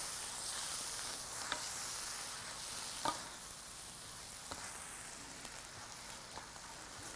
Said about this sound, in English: So this is a can of pinto beans which I've washed out. And you just stir it in.